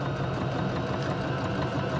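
A Baby Lock Joy sewing machine stitching decorative quilting through fabric marked with chalk, a steady dense motor whir running continuously and close up with no pauses.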